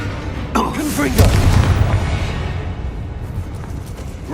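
A Confringo fire spell in Hogwarts Legacy bursts in a loud, close boom with a rumbling tail that fades over a few seconds; a voice speaks around it.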